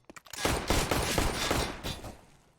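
Rapid bursts of gunfire in Counter-Strike on the Train map during an esports match, dense overlapping shots filling most of the clip, loud and close before tapering off near the end.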